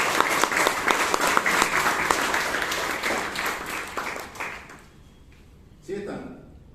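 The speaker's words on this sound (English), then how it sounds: "Give me a round of applause." Audience at a Bangalore Toastmasters meeting clapping in a dense, steady round of applause that fades away after a few seconds, followed by a brief voice.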